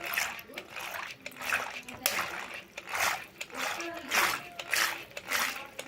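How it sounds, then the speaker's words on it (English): Water splashing in a bowl as a non-electric hand blender and beater is worked forcefully, giving repeated rhythmic swishing bursts about once a second, close and moderate in loudness. "See, it's a splash as well. Not much, but a little bit of a splash when you do it forcefully."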